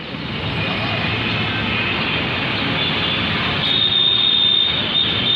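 A train rumbles steadily through a metro station opposite a local railway station, with a high metallic squeal riding over the noise, loud and continuous throughout.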